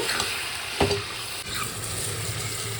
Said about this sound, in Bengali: চিকেন মাংসটা হালকা ফ্রাই করে নিচ্ছি